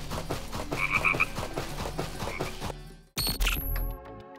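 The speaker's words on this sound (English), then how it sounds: "I also added frogs to the swamps" Frog croaks in a swamp area of a GameMaker video game, heard as a dense, busy game soundscape with music and effects before a brief cut and a brighter burst near the end.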